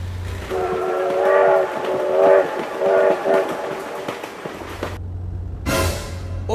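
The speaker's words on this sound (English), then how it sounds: "Oh my God, train!" A train rumbles past with its horn blaring in long repeated blasts, rail clatter beneath, and a person shouting excitedly near the end.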